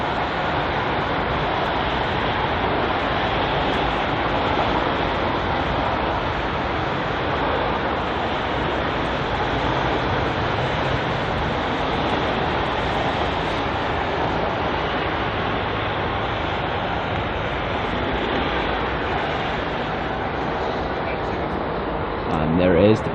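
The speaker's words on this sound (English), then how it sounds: "And there it is, departing to Doha is the Qatar A380." Qatar Airways Airbus A380 taking off from London Heathrow toward Doha, a steady, loud broadband jet roar that holds evenly throughout, heard from a distance with no voices.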